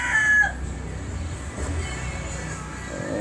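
A rooster crows nearby at the start, followed by scattered clucking from chickens over a steady outdoor background.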